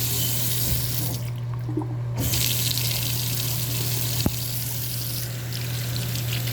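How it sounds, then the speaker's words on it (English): A bathroom hot water tap runs in a house with slow-heating cold pipes, a steady close hiss and splash of water into the basin with a low constant hum beneath, one brief knock near the end. "Let me try to open the hot water up more."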